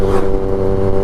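A motorcycle engine held at high revs, a steady loud drone with strong harmonic tones that stays close and constant throughout, with no talking over it.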